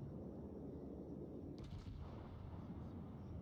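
Naval ship guns fire in the World of Warships video game, giving one brief muffled blast over a constant low engine-like rumble that fills the background.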